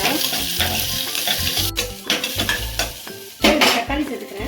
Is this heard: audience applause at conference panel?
no